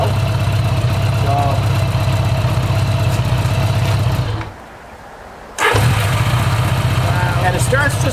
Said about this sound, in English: it starts just like that when it's cold